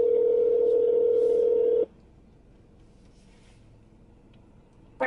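A phone ringback tone sounds while a call is placed: a steady, loud tone for about two seconds, followed by near silence before it starts again at the end.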